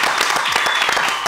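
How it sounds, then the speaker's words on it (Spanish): A studio audience claps loudly to welcome a guest onto a football talk show, quick overlapping hand claps forming a brief, full burst of applause close to the microphone. "recibamos por favor con un fortísimo aplauso al gran Fernando Signorini con nosotros"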